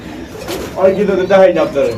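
Pigeons coo repeatedly at a busy pigeon market, the soft throaty calls rising in bursts through the second half, close and fairly loud, with people talking around them.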